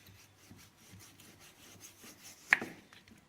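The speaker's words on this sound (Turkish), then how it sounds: "Böyle büyük bir bıçakla böyle keseceğiz." A large knife thinly slices chilled homemade döner meat, making soft rhythmic scraping strokes, fairly quiet and close, with one sharper knock or clatter near the end.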